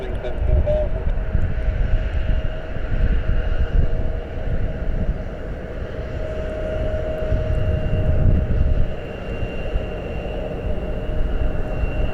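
An airliner arriving from JFK at Columbus airport gives a loud, continuous engine roar with a low rumble that swells and holds steady throughout, heard from nearby outdoors.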